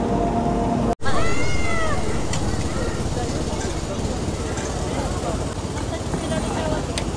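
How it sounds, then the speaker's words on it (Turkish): A well-known street cat in Japan meows in a few short, wavering calls over loud traffic and road noise, while someone speaks throughout. "o bahsetmiş olduğum meşhur kedi çıktı şu anda"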